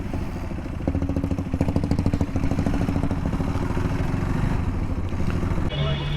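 Motorcycles lined up together at a bikers' Holi ride gathering, engines idling in a loud, steady rumble with some clatter close by, and a brief change in the sound near the end.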